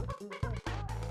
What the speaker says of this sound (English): the bird makes the noise again